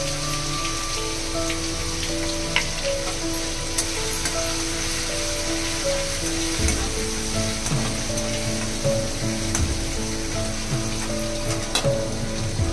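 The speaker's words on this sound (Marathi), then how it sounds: "अद्रक लसूणची पेस्ट टाकते, अद्रक लसूणची" Ginger garlic paste hits hot oil with curry leaves, producing a dense, even sizzle like steady rain, broken by a few small pops and crackles, with no talking.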